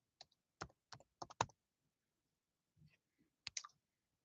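Several sharp keyboard keystrokes clicked in a quick burst, then a pause with a faint low rustle, followed by a short second cluster of taps, close and dry in an otherwise quiet room.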